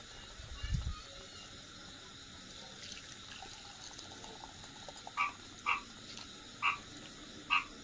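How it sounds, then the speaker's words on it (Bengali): Frogs croak outdoors beside a clay stove during hot weather, four short, sharp calls in the second half. A faint low thump comes early on, over a quiet hiss of background noise. "ব্যাঙ ডাকছে, সবসময় উনুন ঢেকে রাখতে হবে।"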